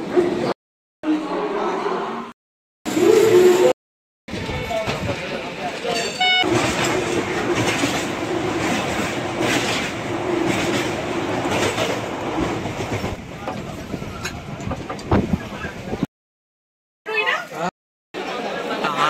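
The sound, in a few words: Haldia local train running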